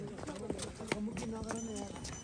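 Horse hooves clip-clop during a ride near Rara Lake in Nepal, with uneven, close hoof strikes under people talking.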